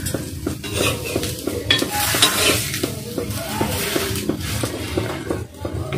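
Food sizzles steadily in a hot pan for a home-cooked winter dish while a utensil scrapes and clinks repeatedly against the metal, close and continuous with no talking.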